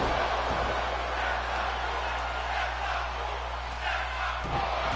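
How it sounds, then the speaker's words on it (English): Arena crowd in the WWE 2K22 wrestling video game roaring and chanting during a Seth Rollins match, a steady dense wall of crowd noise with low rumble throughout. "The crowd expressing their opinion on the Intercontinental Champion as Rollins goes for the knee right to the fa"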